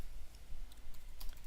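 Rapid, uneven clicks of a computer keyboard as code is typed, close and fairly faint over a low steady hum, with no voices.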